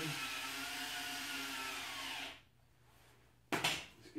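A power driver whirs steadily as a screw is driven in, then stops for a second of near silence before a brief loud burst of rattling and clatter.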